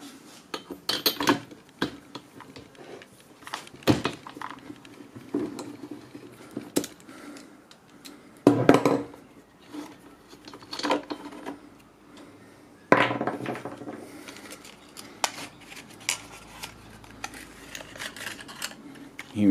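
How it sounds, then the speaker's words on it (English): Kin Chrome 3/8 square drive 5/8 deep socket working a spark plug out of a Talon/McCulloch two-stroke petrol blower vacuum, giving close metallic clinks, ratchet clicks and taps in irregular bursts. "Next, we'll replace the spark plug using the Kin Chrome 3/8 square drive 5/8 deep socket."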